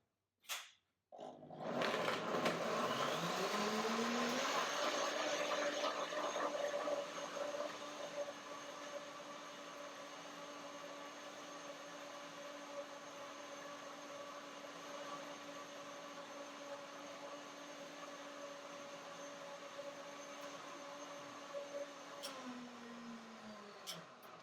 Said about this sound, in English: Well, this is a German blender. It's a high-speed blender from Revo Blend.